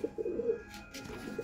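A Giribaz pigeon coos softly in a repeated, throaty rhythm, faint and close, with a few light rustles between the calls.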